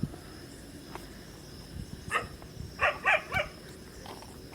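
Several dogs bark in the distance near a riverside Shiva lingam by the Ganges, with a single faint bark followed by a brief cluster of three or four yelps over a low, steady outdoor hum.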